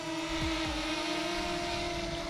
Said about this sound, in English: Now drone is starting.